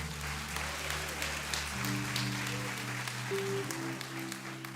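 A church congregation applauding during a worship service: a steady wash of clapping fills the room beneath sustained keyboard chords that shift pitch partway through.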